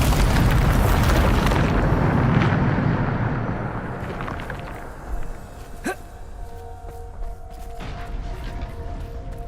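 Bombarda spell blast in the video game Hogwarts Legacy: a loud, broad booming explosion that fades over several seconds, followed by quieter rumbles and a few sharp magical zings.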